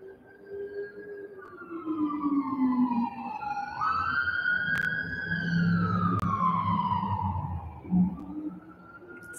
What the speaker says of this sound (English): if you could hear that ambulance